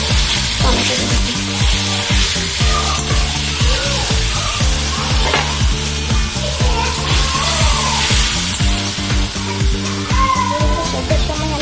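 Spice paste and chopped tomatoes sizzle and fry steadily in a pan for a vegetarian cabbage dish, with a loud continuous crackle and scraping stir strokes throughout.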